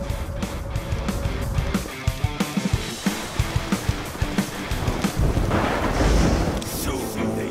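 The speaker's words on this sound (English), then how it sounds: "Heavenly thunder!" A heavenly thunder attack in the Dynasty Legends 2 mobile game, a dense roar of crashing, rumbling thunder with sharp repeated impacts that continues without a break, building to a loud surge toward the end.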